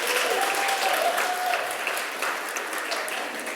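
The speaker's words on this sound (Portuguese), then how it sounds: "Salva de palmas para esses pais aí" A church congregation applauds a group of parents with dense, sustained clapping that fills the room, and a voice can be heard talking underneath.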